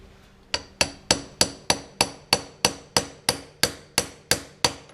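Thirteen sharp hammer blows drive a seal into a Jaguar XJ6 Series 2 steering gear in a steady, even rhythm, each a bright metallic strike with a short ringing tail, close by with no talking.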